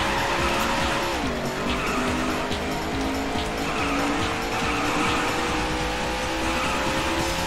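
A Daytona USA arcade racing machine roars with a sustained race car engine drone while tires squeal and skid continuously, a dense loud wash of game audio with no voices.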